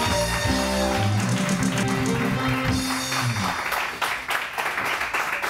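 On a live morning TV talk show, a studio audience breaks into applause to welcome a guest, with clapping rising as a music sting fades out midway.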